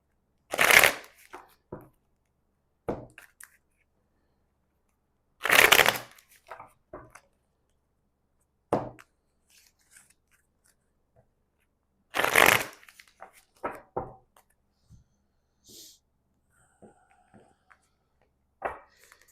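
A deck of tarot cards is shuffled close up in several separate bursts of crisp riffling, each followed by softer taps and handling noises, with quiet pauses between the bursts.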